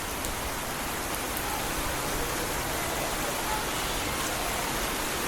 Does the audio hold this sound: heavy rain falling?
yes